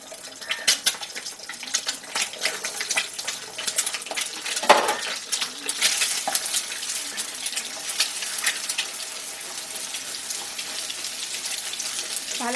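Two eggs frying in hot oil in a pan to be scrambled, clinking utensil scrapes and stirring over a soft sizzle, with a sharp metallic knock midway.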